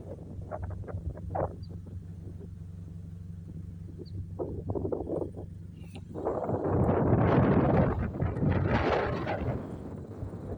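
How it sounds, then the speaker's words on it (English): Wind gusts across an outdoor microphone beside a widebody 2015 Scion FR-S TRD 1.0 Edition, low rumbling buffets swelling into a loud, sustained roar in the second half. "It's a little windy out here."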